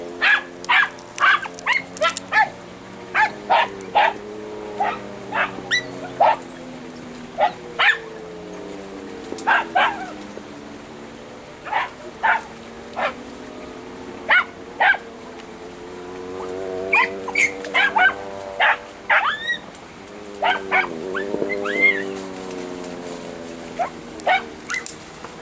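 Andalusian podenco hunting dogs bark in the field during the hunting season, giving a long run of sharp, high, overlapping yelps and barks from several dogs. Some are near and some farther off, over a steady outdoor background.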